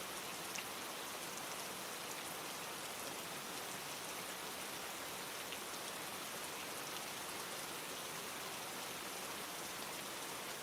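Steady rain falls without pause, a dense, even hiss of drops on surfaces that stays constant and fairly soft throughout, with no voices.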